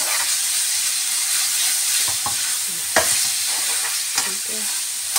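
Eggplant and potato stir-fried over high heat, a loud constant sizzle with the spatula scraping and tossing at intervals, no voices.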